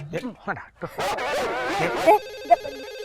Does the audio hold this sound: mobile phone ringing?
yes